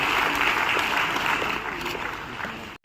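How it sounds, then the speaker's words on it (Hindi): Loud, dense applause from a crowd at a school event, sustained clapping filling the space for a few seconds before cutting off abruptly. "जोरदार तालियां।"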